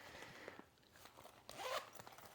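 A zipper on the back of a small travel pouch gives one short, quiet zip about midway through, close by, against a faint background.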